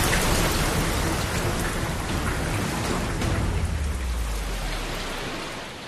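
Heavy monsoon rain pours down in northern India, a dense, constant hiss of drops on surfaces, with a low roll of thunder swelling and fading midway through the downpour.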